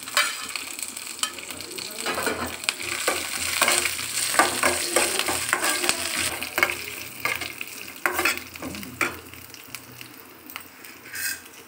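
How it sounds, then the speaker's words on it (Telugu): Peanuts, green and dried red chilies and chana dal frying in a pan for coconut rice, a close sizzle with frequent scraping stirs and light clinks of a spoon against the pan, no talking. "ఇవన్నీ మంచిగా ఫ్రై చేసుకుందాం"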